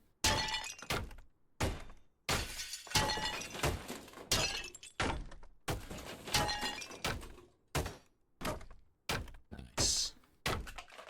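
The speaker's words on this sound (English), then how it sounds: "Lot of sounds from destruction." Demolition in the Deconstruction Simulator video game: a rapid series of loud crashes, thuds and shattering breaks, some with glassy crunches, coming in dense bursts separated by brief pauses, with no talking.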